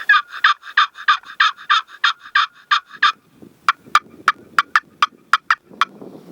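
A wooden turkey box call worked with a stick gives a quick run of about a dozen clucking yelps, then a series of sharper, higher cutting notes, loud and close, with no talking.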